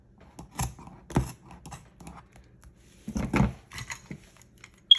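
Scissors snip through yarn or fabric while a two-tone beanie is being made, giving several sharp, close cuts in an irregular rhythm with quiet pauses between them and no talking.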